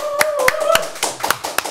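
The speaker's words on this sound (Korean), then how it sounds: "박수로 환영하겠습니다." A studio audience applauds to welcome a guest onto a Korean talk show, a short burst of sharp, close hand claps in an irregular rhythm, with a little voice underneath.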